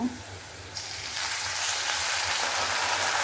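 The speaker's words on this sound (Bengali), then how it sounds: "আদা রসুনটা আমি একটু ভাজা ভাজা করে নিই" Ginger garlic paste frying in oil with reddened onions for a chicken curry with wild potatoes, a steady close sizzle that jumps louder and brighter after a soft start and keeps hissing to the end.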